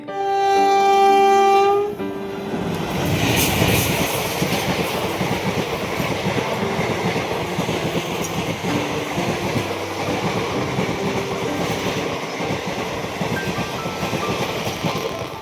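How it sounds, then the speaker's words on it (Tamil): A train rumbles past a railway crossing up close, a loud steady roar of wheels clattering on the rails that fills the whole stretch after a brief tonal hum at the start. "ட்ரெயின் கிராஸ் ஆகி போகிறத பார்க்குறதுக்கு அவ்வளோ சூப்பராக இருந்துச்சுங்க"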